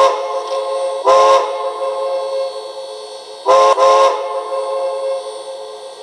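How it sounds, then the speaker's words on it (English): Two short whistle blasts from the sound decoder of a PROTO 2000 0-8-0 model steam locomotive, a steam-style chord played twice a few seconds apart, loud and clear with no talk. "The third one is short whistle."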